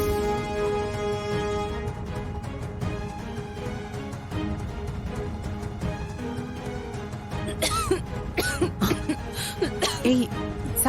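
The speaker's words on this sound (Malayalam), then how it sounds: "ടാബ്ലറ്റ് കഴിക്കുമ്പോ ചുമ മാറിക്കോളും" During a TV drama scene at a family function, a girl coughs several times in quick, harsh bursts toward the end. Background music and talk sit underneath.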